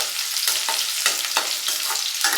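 Garlic cloves hiss and crackle in hot oil for pepper chicken, a dense, close sizzle with small bursts as the pan is stirred.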